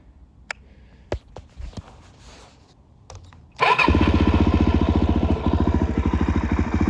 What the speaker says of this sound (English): Whenever I'm giving it more than quarter throttle, it backfires a whole bunch and loses power